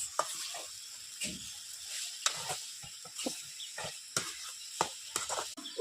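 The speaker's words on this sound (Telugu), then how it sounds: "ఉల్లగడ్డలు అనేది బాగా కలుపుకోవాలండి" Potatoes stirred in a pan for village-style aloo kurma, a soft sizzle under repeated scraping strokes of a spoon at an irregular rhythm, close up.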